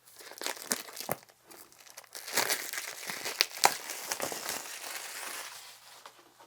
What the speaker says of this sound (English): I think I have to take the plastic off first before I take out that little tab.